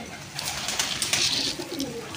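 A flock of pigeons, Iraqi or imported, coos continuously, with overlapping soft throaty calls that swell a little midway over a steady ambient bed.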